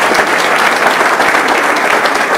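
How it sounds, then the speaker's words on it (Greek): An audience at an internet-safety event applauds in a loud, dense, even wash of clapping that holds steady throughout, with no voices. "Αυτός λοιπόν ο άνθρωπος ο οποίος αξίζει ένα χειροκρότημα από εσάς"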